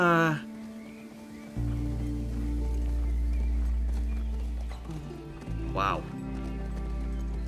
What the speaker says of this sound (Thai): ของเราขี่ม้าเข้ามา